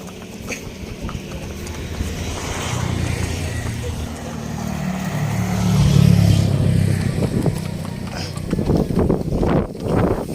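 A motorcycle approaches and passes nearby, its engine hum building to a peak midway and then fading, with some clattering and street noise around it.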